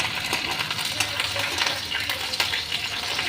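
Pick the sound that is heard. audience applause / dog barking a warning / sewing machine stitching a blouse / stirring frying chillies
stirring frying chillies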